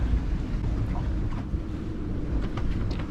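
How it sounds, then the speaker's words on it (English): Steady wind buffets around a boat at anchor, with a low rumbling roar and faint creaks and knocks, no voices, a constant blustery night ambience. "It's a little quieter out there. It's still windy."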